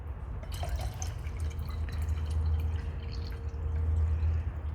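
Water pours from a bottle into a vase, a close, steady gurgling stream with bubbling and splashing that holds strong throughout.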